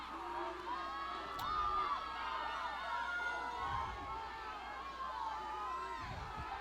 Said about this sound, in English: Let's go Rebels, the cheer coming from the brigade up on the far right corner of the home field stands